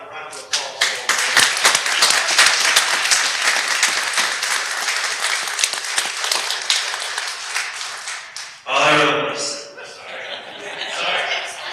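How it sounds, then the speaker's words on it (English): An audience at a city council meeting applauds the recognized fellows with a loud burst of dense clapping that tapers off, followed by a brief voice and a few scattered claps and chuckles. "how about a round of applause for them?"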